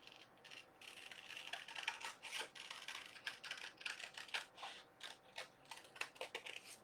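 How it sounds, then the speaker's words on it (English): Scissors snip through a heart shape drawn on a bag for a home-decor craft. The close, crisp cuts come in quick irregular runs with short pauses, and no voice is heard. "I drew the heart on the bag from this right here, and I'm going to go ahead and cut that out"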